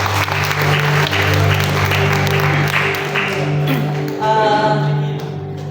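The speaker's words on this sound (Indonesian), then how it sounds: "Kita boleh kasih tepuk tangan Bapak Ibu." A church congregation at a morning service applauds, a loud steady burst of clapping over a low sustained tone, lasting several seconds before tapering off.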